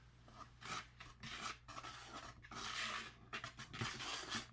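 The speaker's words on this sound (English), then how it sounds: "We will now give all the dry ingredients a good whisk" A whisk scrapes through dry ingredients such as flour, salt and baking soda in a bowl for no-yeast bread dough, making quick, close, rhythmic rasping strokes in bursts.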